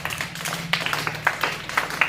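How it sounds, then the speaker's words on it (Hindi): Several hands clap for a child in a classroom storytelling lesson, giving a short run of sharp, close, fairly even claps over a low steady hum. "तो तालियां तो बजा दो इनके लिए।"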